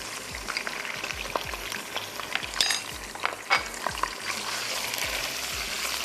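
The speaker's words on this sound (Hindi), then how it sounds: "थोड़ा सा इसको होने देते हैं फ्राई" Chicken pieces frying with garlic ginger paste in a karahi, a steady close sizzle broken by occasional scrapes and clinks of a spoon stirring against the metal pan.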